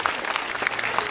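A school audience breaks into a brief, dense burst of hand clapping, loud and close, lasting only about a second.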